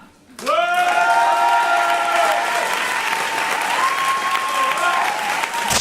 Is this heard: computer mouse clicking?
no